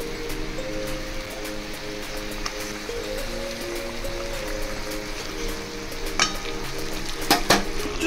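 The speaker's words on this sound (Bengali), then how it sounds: "এবার আমি মাছগুলো দিয়ে দেবো।" Pieces of katla fish go into a simmering masala gravy for kalia, giving a steady close sizzle and bubbling with a few louder splashes and clatters near the end.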